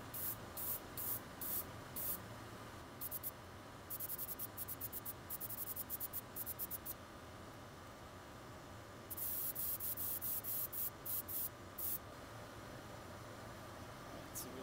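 Bursts of sepia paint spray hiss in short pulses and longer runs onto a 3D-printed frog fishing lure, close up, over a quiet steady background hum.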